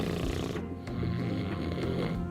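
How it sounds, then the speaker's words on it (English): Loud snoring from people asleep in a house, heard as deep rasping snorts that rise and fall in long breaths, close and continuous with no talking. "everyone in the house was snoring so loudly that it was impossible to fall asleep"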